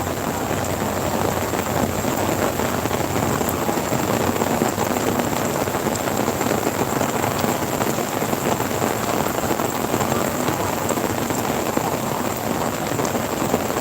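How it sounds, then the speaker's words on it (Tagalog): Heavy rain pours steadily on Manila Bay's Dolomite Beach, a dense, continuous hiss that stays loud and even throughout with no pauses. "Ang lakas ng ulan dito. Ayun na. Lakas ng ulan."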